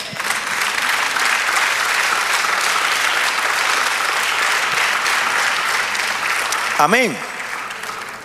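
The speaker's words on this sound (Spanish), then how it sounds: "Dale aplauso al Señor." Congregation applauding in church, a dense, loud, sustained roar of clapping filling the room, ending with a single voice speaking briefly near the close.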